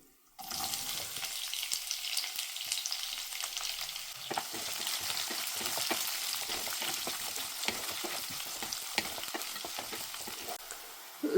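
Peanuts, cashews and onions fry in a pan for a traditional chitranna, a continuous close sizzle with scattered crackles and stirring scrapes.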